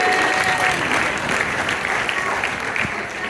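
A congregation at a religious service breaks into close, steady applause, a dense continuous clatter of hands filling the short stretch without any speech.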